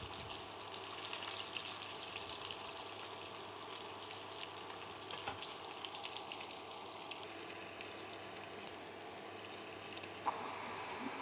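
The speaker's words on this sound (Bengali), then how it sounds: "সেহেতু আমি একটু বেগুনটা একটু ফ্রাই করে নিব" Eggplant frying in a pan: a quiet, steady sizzle running for about eleven seconds, faint and close, with a few small crackles and no talking.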